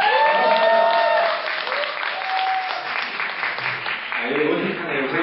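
An audience applauds the lead proposer of a citizens' initiative at a beer party, a dense, steady wash of many hands clapping throughout, with voices and cheers mixed in.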